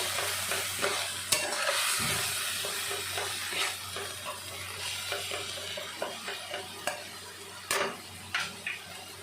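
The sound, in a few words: masala with red chilli powder frying and being stirred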